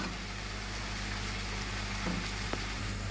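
A pot of molokhia with coriander simmers and boils steadily, a soft continuous bubbling hiss with one or two faint clinks, heard alone and at low level.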